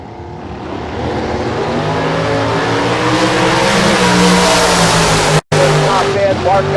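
A Torco Race Fuel dragster launches at a bracket drag race, a loud, sustained engine roar building steadily with tire noise, under an announcer's voice, with a brief cut near the end.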